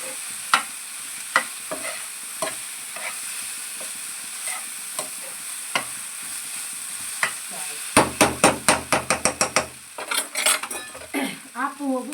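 Poha being cooked in a pan in a home kitchen: several separate spoon taps and scrapes against metal, then a quick burst of rapid clattering stirs over a soft frying sizzle.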